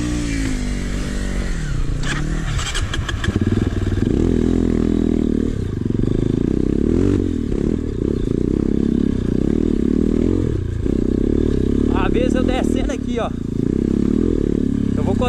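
Dirt motorcycle on a steep hill-climb trail at a Brazilian trail-riding event in Fortuna de Minas, its engine droning loud and steady throughout with clattering and scraping mixed in, while a rider talks over it.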